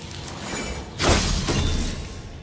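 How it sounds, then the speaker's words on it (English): Objects break apart in God of War gameplay, a loud burst of shattering debris near the midpoint over a dense, rumbling game soundscape. "I will never get tired of shattering things with this."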